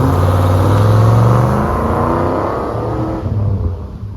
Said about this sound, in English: Let's hear Holden's V8.